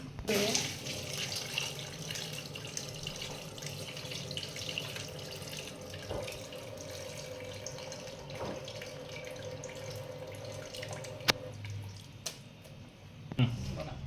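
A continuous stream of hot water runs and splashes into a cooking pot for a crab curry for most of the clip, with a few clinks near the end.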